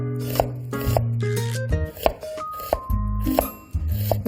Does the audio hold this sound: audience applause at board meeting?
no